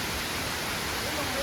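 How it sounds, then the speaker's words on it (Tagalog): Hulugan Falls, a waterfall, gives a steady, even rushing roar of falling water that fills the whole moment without a break. "May Hulugan Falls."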